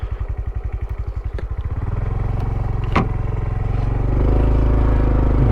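A Honda Trail 125 with a 15-tooth sprocket climbs an off-road hill, its single-cylinder engine thumping in a loud, close rhythm that quickens and smooths into a steady drone as revs rise.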